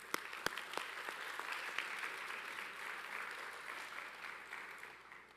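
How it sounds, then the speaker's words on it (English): A convocation audience welcoming a new class applauds in a large hall. A few sharp, distinct claps ring out first, then steady, fairly quiet clapping spreads through the room and gradually thins. "How about a round of applause for Ingrid?"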